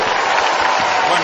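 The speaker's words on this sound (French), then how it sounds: "applaudissements pour lui" A crowd applauds a comedian at a New Year show, producing dense, loud, continuous clapping that stays steady throughout.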